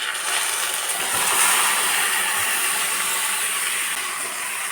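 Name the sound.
marinated chicken sizzling in pan with browned onions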